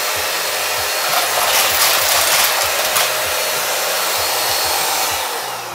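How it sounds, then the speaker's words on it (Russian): A Xiaomi Deerma DX888 vacuum cleaner runs with a steady, loud motor whine while sucking up coins from a broken piggy bank, with faint rattling bursts in the middle and the motor tone easing near the end. "10 копеек не берет пылесос"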